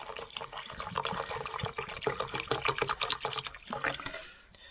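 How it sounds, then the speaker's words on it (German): Water pours into a bottle outdoors, a brief run of gurgling, splashing liquid with a rising fill tone, fairly close and without talk. "Ich muss da noch mehr Wasser reinkippen."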